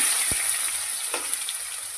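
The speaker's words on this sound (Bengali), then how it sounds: "ওই তেলে আমি গোটা জিরে, তেজপাতা, গোটা গরম মশলা আর পেঁয়াজ কুচি" Whole cumin, bay leaf, whole garam masala and chopped onion frying in oil, giving a faint, even sizzle with a couple of soft pops, alone without any talking.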